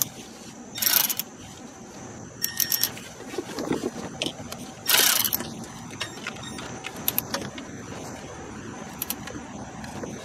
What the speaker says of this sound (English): And now I could take my ratchet